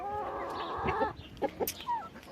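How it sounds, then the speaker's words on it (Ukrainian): Several chickens and turkeys clucking and murmuring close by while eating, with a drawn-out call at first followed by short scattered clucks and chirps. "Як бачите, і індики її добре їдять, і кури."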